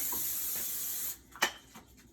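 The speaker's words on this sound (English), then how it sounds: "I'm just going to use a little bit of Pam spray" Pam cooking spray is sprayed onto a baking pan in a kitchen, a steady close hiss lasting about a second before it stops, followed by a few light clicks and handling sounds.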